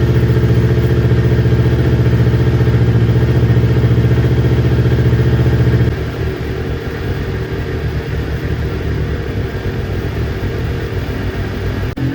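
A newly built motorcycle's engine idles steadily and loudly up close, its even throb shifting midway to a rougher, lumpier chug.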